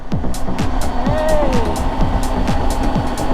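Dirt bikes and Surrons ridden in a pack on a Miami street ride-out, rapid repeated revs from engines during wheelies, buzzy and close, with a person shouting over them.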